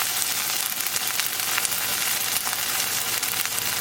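Beef sizzling and frying in a very hot pan, a steady dense crackle that holds close and loud throughout with no talking.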